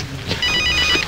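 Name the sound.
mobile phone ringing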